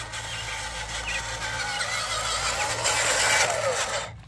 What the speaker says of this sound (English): So we are in low gear, and let's give it a go.